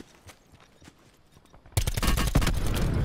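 A grenade goes off in a first-person shooter video game: after a quiet stretch of faint clicks, a sudden loud crackling burst hits and holds to the end.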